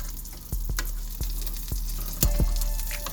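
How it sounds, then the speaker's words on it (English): Food sizzling in a pan over lowered heat while being stirred, an even close hiss broken by several sharp scraping knocks of the spatula, no speech. "I turned down the heat, and now I'm just going to stir it around."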